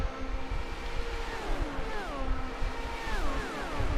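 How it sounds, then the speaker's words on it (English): IndyCar race car engines at the Michigan track, several cars whining past in quick succession with rising and falling pitch sweeps, heard fairly faint over a dense roar of crowd and track ambience. "Sometimes you just like to take a listen to the natural sounds of these engines."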